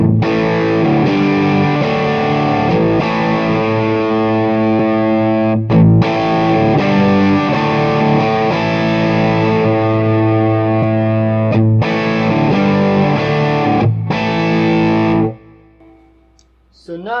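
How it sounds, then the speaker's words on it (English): Electric guitar played through a distortion pedal into one amp, loud sustained overdriven chords with brief gaps where the pedal is switched on and off, ending in a fading tail. "I'll turn the distortion on, turn the pedal on and off."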